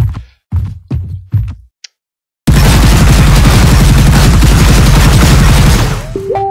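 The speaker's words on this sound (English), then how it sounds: "So when we shoot it, it breaks off into little pieces and chunks" A reinforced concrete pillar with metal beams inside is shot and breaks apart in an Unreal Engine 4 simulation: four loud separate gunshots, a brief silence, then a dense, roaring crumble of concrete chunks that fades out.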